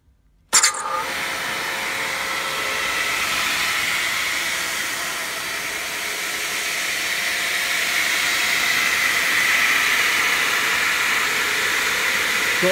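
An Elumatec MGS 72/30 saw switches on with a sudden start and then runs steadily as a continuous, fairly quiet hissing whir, alone without talk.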